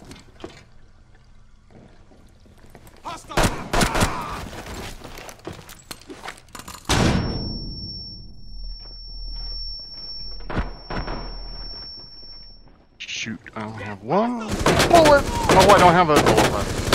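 Gunfire in Rainbow Six: Siege, bursts of rapid shots in two loud clusters separated by a quieter stretch with a sustained tone, with a voice speaking in between.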